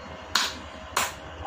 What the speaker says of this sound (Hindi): तो बैठे बैठे अगर कुछ नहीं कर रहे हैं तो बजाइए ताली